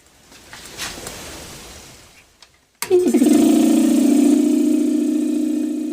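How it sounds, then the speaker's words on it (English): A borrowed shop air compressor starts up abruptly after a quiet stretch, then runs with a loud steady motor drone and throb as it fills its tank, close by and without talk. "So I just turn it on and let it fill up with air."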